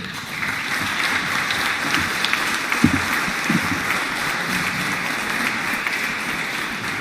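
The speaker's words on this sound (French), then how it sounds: "vous pouvez les applaudir à nouveau" Applause for trophy winners at an awards ceremony for greenhouse-gas reduction progress: a moderate, even patter of clapping from an audience, somewhat distant, with a few sharper claps standing out midway.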